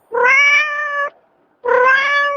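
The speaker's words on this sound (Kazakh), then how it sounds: "Мысық." Two clear, loud meows from a cat, each about a second long, separated by a brief silence and heard close up with nothing else around.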